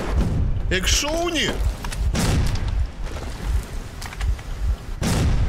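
Explosions in Metro Exodus, heavy booms and blasts bursting at several points amid rumbling debris, loud and close, while characters shout and talk over them.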